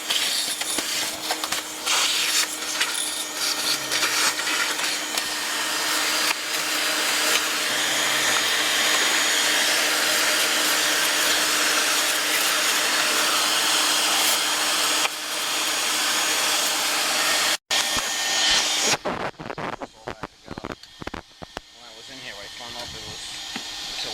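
A Field Controls SWG-4 power venter motor runs in a heating system, giving a loud, steady whooshing hiss for most of the stretch before cutting out into clattering handling noises. Someone talks over it.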